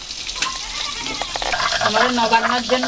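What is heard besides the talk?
fish frying in a pan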